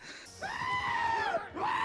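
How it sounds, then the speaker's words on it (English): Goats screaming in Thor: Love and Thunder, a loud, drawn-out, human-like wail that bends downward, followed by the start of another cry. "You screaming goats."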